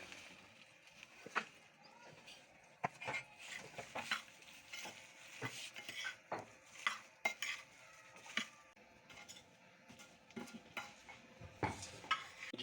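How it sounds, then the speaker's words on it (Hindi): Pickle ingredients for a traditional mixed achar, including lasoda, being stirred together with mustard oil in a bowl: repeated scraping clinks and soft sloshing in an irregular rhythm, close and moderately quiet, with no talking. "अब हम मिक्स कर लेते हैं अच्छी तरह से"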